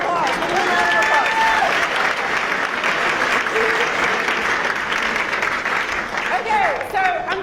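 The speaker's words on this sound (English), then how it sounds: "Give them a round of applause." An audience at a college talk gives a sustained round of applause, dense and fairly loud for the full stretch, with scattered whoops and voices mixed in before it starts to thin at the end.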